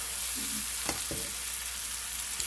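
A shaved lamb and vegetable mixture fries in an oiled skillet, giving a dense, continuous hiss with a couple of brief stirring scrapes partway through.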